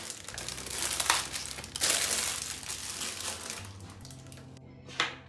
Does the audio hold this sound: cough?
no